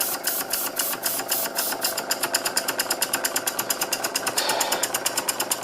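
A Stuart No.8 model mill engine runs on air from a compressor, puffing out a quick, even train of sharp exhaust beats that quickens slightly and stays steady and close, with no voices.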